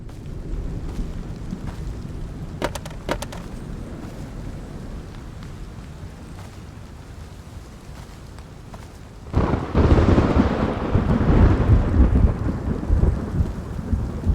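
Thunder in the video game Road to Vostok: a steady low rain-and-storm rumble, then a loud thunderclap bursts in near the end and rolls on heavily, with no talking.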